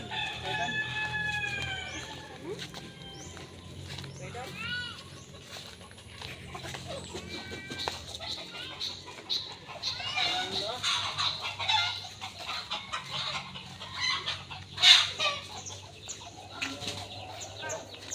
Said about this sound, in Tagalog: Kanina nakita namin dito yung manok.